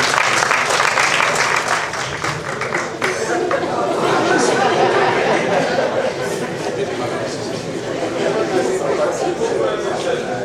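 An audience at a song performance event applauding, sustained dense clapping mixed with crowd chatter and cheering, loud and close throughout.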